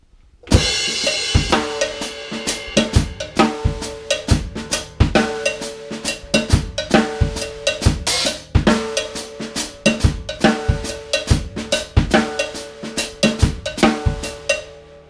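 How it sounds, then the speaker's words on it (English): A steady drum groove plays with crisp, regular hits and ringing hi-hat splash notes opening up on some beats. "you can do that as a splash note on the hi-hat."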